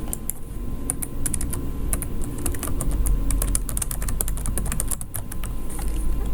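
Computer keyboard typing, a steady rapid run of close, fairly loud key clicks with brief pauses and no talking.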